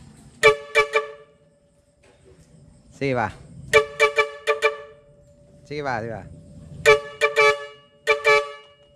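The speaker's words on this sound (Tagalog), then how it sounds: "Na-set up na natin yung busina, yung air horn." Loud blaring air horn on a Nissan GL Grandia van blasts in repeated rapid bursts, close by, with people talking in between the honks.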